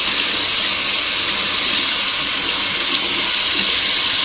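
Steady hiss of water running from a tap over a sink as Osage orange dye is rinsed away, continuous and fairly loud with no voices.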